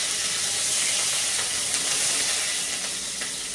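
Okra frying in hot oil with garlic and green chili gives a loud, continuous bright sizzle and hiss, dense and steady throughout with small crackling bursts and no voices.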